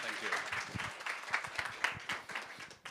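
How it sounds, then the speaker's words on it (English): Audience applause for a speaker named John B at a workshop session, a dense burst of many hands clapping that carries on steadily through the whole stretch, close and fairly loud, with no talking over it. "So a big applause for John B"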